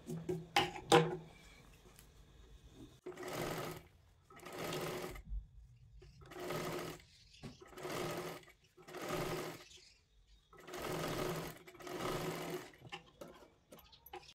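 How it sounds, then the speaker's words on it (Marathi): A sewing machine runs in repeated short bursts, about six runs of stitching separated by pauses, as a double line of stitches is sewn onto a katori blouse sleeve; soft handling clicks come before the first run. "आता ह्याच्यावरती आपल्याला एक डबल शिलाई द्यायची आहे, जेणेकरून ती बाही आपली पॅक होऊन जाईल."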